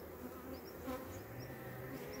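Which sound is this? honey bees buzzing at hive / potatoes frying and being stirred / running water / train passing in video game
honey bees buzzing at hive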